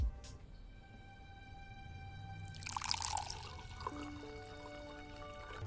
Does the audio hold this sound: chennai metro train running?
no